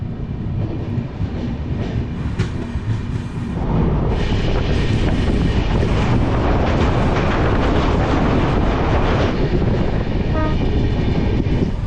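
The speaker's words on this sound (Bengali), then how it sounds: "ট্রেন আবার নিজের গতিতে ছোটা শুরু করেছে" The Uttarbanga Express runs on the tracks between Sealdah and New Jalpaiguri, a loud continuous rumble and rattle from inside the moving train that swells heavier partway through.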